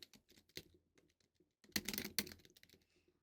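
Quick bursts of keystrokes on a computer keyboard, light clicky taps in short uneven runs with a denser flurry near the end, close and quiet with no talk.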